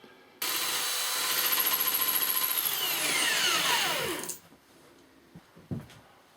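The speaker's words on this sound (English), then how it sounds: "now our blade is starting to cut the thrust surface on here" A line boring bar blade cuts the thrust surface of a bore in a loud, steady machining whine with a rapid pulsing chatter and a falling tone, then stops abruptly, leaving faint workshop noise and a couple of brief knocks.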